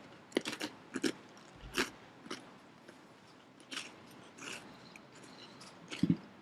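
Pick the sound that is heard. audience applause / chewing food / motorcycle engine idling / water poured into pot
chewing food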